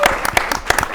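An audience at a live game show claps for a couch team; close, sparse individual hand claps in an uneven rhythm, brief and fairly loud.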